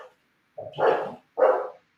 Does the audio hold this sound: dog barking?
yes